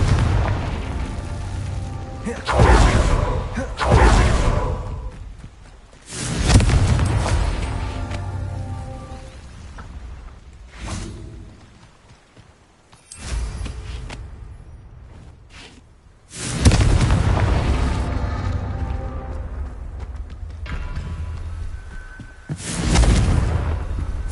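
Confringo blasting spells explode in Hogwarts Legacy, several heavy booms spaced a few seconds apart, each swelling loud and rumbling away before the next blast.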